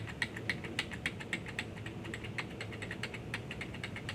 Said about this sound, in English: You can use your arrows, your left arrow and your right arrow on your keyboard